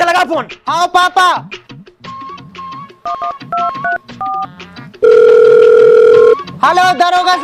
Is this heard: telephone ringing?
yes